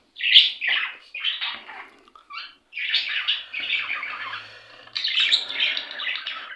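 Several budgerigars chirp and squawk in rapid, overlapping bursts, close by and fairly loud, with brief pauses between busy flurries.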